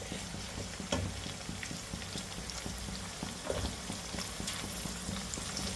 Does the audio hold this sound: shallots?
yes